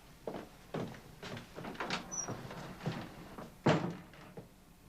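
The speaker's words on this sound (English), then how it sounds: "William, would you close the door, please?" A door pulled shut indoors, giving a soft thunk among several scattered knocks and bumps, with one heavier close near the end; no voices.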